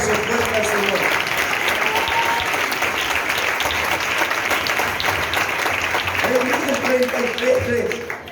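A church congregation claps loudly and steadily for the Lord during an anniversary service, with voices and shouts rising over the applause near the start and again toward the end.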